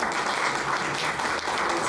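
An audience gives a speaker a strong round of applause at a talk on food policy, continuous dense clapping throughout.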